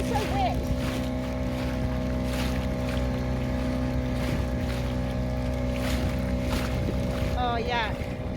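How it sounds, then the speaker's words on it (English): A small dinghy motors across a breezy, choppy Coromandel Harbour with a steady outboard drone, wind buffeting and splashing water, while people talk faintly underneath. "the trip back to the boat was a fairly breezy affair, with what seemed like half of Coromandel Harbour turning up in the dinghy"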